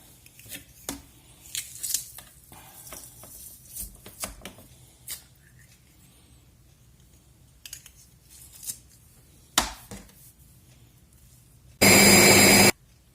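Sporadic clicks and light handling knocks come first, then a short, loud whirring burst near the end as a mixer blends a mixture containing pressed garlic.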